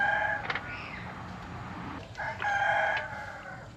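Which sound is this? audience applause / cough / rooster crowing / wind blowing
rooster crowing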